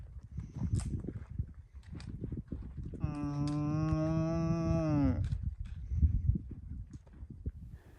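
A cow gives a single long, loud moo close by on a rural trail, with shuffling hooves and footsteps before and after it.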